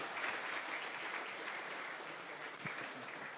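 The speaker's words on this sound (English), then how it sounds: "Another round of applause." A conference audience at the ArduPilot developers' gathering applauds after a talk. The clapping is dense and sustained, at moderate level and somewhat distant, and carries on steadily without speech.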